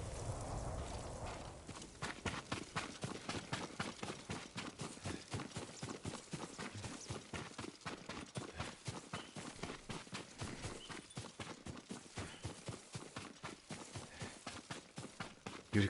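Horse hooves strike the ground in a brisk, even clip-clop that carries on steadily and close by after a brief rumbling lead-in, with no voices.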